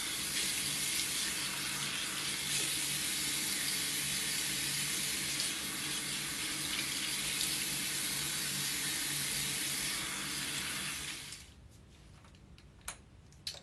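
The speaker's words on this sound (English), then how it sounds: "Turn on your water." Tap water runs steadily into a sink for washing brushes, a loud, continuous rushing hiss for about eleven seconds before the flow cuts off, leaving a few faint clicks and splashes.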